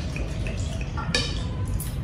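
A small splash of water is poured into a portable bullet mixer jar while making chutney, heard as brief dripping and trickling against a steady kitchen background.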